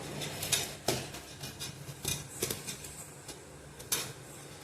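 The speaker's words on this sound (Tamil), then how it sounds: "இப்போ இந்த அளவுக்கு மேஷ் பண்ணி எடுத்துக்கோங்க" Soft scraping and tapping of a spoon against a bowl at irregular intervals, quiet and close, as boiled potatoes are pressed and mashed for cutlets.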